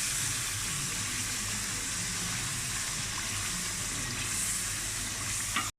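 Masala frying in ghee in a pan for dhaba-style daal mash after water has been added, giving a loud, continuous close sizzle with bubbling and a little stirring throughout.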